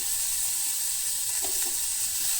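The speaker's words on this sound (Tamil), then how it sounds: "இப்போ அது பாத்திரம் சூடான உடனே நான் எண்ணெய் விட்டுட்டு கடுகு, உளுத்தம்பருப்பு, சீரகம் போட்டுட்டேன்." Mustard seeds, urad dal and cumin sizzle in hot oil in a heated pan, making a steady, moderate hiss with a few faint pops midway and no voices.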